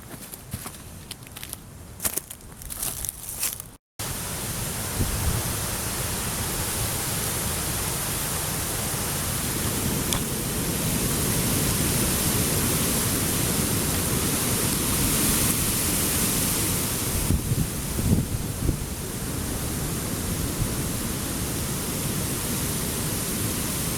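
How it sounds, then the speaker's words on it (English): Steady broadband wind rushing outdoors in the Australian bush near Conglomerate Creek, a continuous loud roar filling the scene with slight gusting swells and no speech. "There's the wind."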